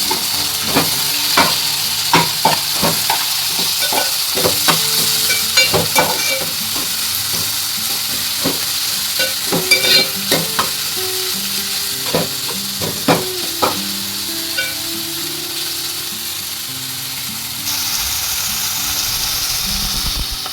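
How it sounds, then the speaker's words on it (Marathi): Tomatoes stirred into onions frying in a pan for Konkani chicken: steady sizzle and hiss with repeated scraping clacks of a spoon against the pan, close and fairly loud, no voices. "टोमॅटो असं व्यवस्थित मिक्स करून घ्यायचं आहे"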